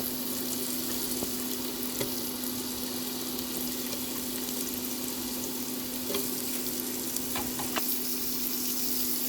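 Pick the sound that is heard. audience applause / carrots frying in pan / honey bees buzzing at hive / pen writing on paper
carrots frying in pan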